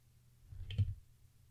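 A computer mouse clicked once or twice while working in Inkscape graphics software, a short soft click close to the microphone in an otherwise quiet room.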